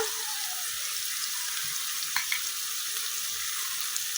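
Ginger garlic paste frying with onion and tomato in a pan, a steady bright sizzle heard up close and alone, with a couple of brief stirring clicks.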